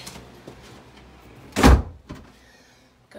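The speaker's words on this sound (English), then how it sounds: "Close the door so the dogs don't get up here." An indoor door shuts with one loud, close thud partway through, in a house under renovation with a dormer space, followed by a faint rattle and quiet room tone.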